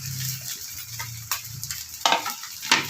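Flattened rice tossed with grated coconut and coriander in a pan over a low flame, giving soft scraping stir strokes over a faint steady sizzle, with a few sharper clinks of the spoon near the end.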